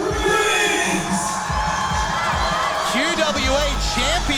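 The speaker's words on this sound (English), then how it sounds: "And the crowd are alive for this one." A pro wrestling crowd at a live show cheers, whoops and shouts loudly and continuously, with a commentator's voice talking over the roar.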